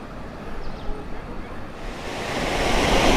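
River water flowing through Kadiya Dhro canyon in Kutch, a steady broadband rush that swells louder toward the end, with some wind noise mixed in and no speech.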